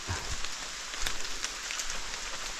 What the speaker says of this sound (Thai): ฝนตกไม่เลยพี่น้อง